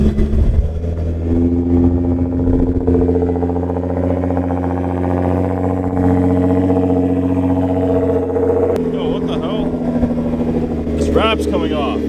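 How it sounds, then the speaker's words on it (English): A Nissan GT-R engine idles after a cold start on a very cold morning, a steady low rumble that holds throughout at close range with a slight change in tone near the end. "it's gonna be a very cold start on the GTR this morning"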